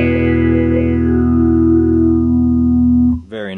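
Nano Bassballs envelope filter pedal on bass guitar, set around half intensity, lets a sustained note ring with a slow wah-like sweep for about three seconds before it is cut off by a brief new attack.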